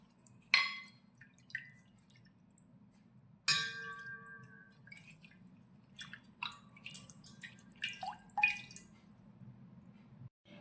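Ten to twelve holy basil (tulsi) leaves are rinsed in water for a home remedy, giving sparse, quiet drips and small splashes against a low steady hum.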